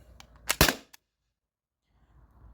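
A single sharp shot from a modified T4E TR68 CO2 marker with a drilled restrictor, firing a 9.9 gram ball; a crisp loud crack with a brief echo, then silence and faint background hiss.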